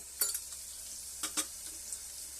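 Spices and ground masala paste sautéing in a pan for a home-style Maharashtrian lentil amti, giving a steady close hiss of frying with a few brief stirring scrapes.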